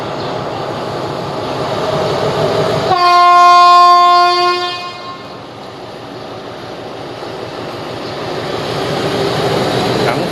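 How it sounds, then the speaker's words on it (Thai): A train pulls into the platform at Kui Buri railway station in Thailand, rumbling past close by; a loud horn blast sounds for a couple of seconds before the rolling clatter continues. "เทียบชานชลา สถานีรถไฟกุยบุรี"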